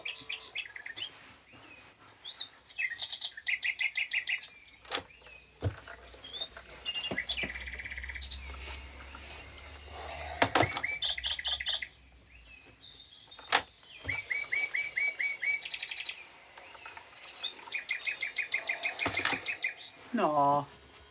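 Small bird chirping in repeated rapid bursts of high twittering notes, fairly close, separated by short pauses, with a person talking in between.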